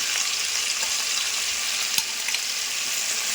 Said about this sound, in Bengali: এবার একটু ভাজা ভাজা করে এখানে হলুদ, লবণ আর ধনে, জিরে আর কাঁচা লঙ্কা বাটাটা দিয়ে দিচ্ছি।